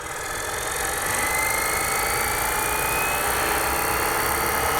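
A Fly Wing Huey UH-1 Version 3 RC helicopter spins up to head speed, its steady rotor whir and electric motor whine rising slightly and then holding level, close and continuous with no talking.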